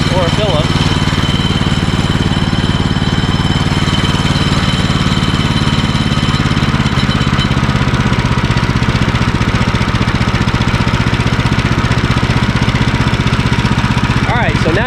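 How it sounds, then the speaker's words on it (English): A Woodland Mills sawmill engine idles steadily and loudly throughout, a continuous mid-pitched drone with a faint high-pitched clutch pinging riding above it. "You can hear that pinging sound."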